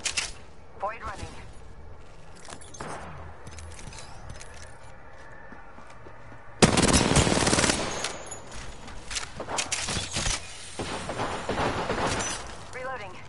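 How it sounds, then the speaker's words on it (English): Video game firefight with bursts of rapid automatic gunfire and sharp shots, quieter scattered fire at first, then a loud sustained burst midway followed by further volleys, with game voices over it. "Getting shot at."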